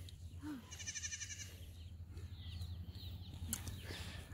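Goat bleating in a farm pen where the animals are sick with diarrhea, a short faint bleat among quieter background noise with other faint animal calls.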